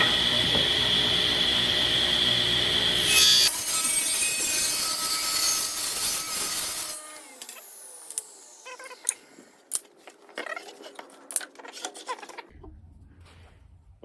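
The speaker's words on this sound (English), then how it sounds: "now we're cutting this edge off of the cherry and we're gonna make them into strips." Cherry wood edge being sawn off into strips for a cutting board, a steady loud power-saw drone for several seconds that cuts out into quieter workshop knocks and handling clatter.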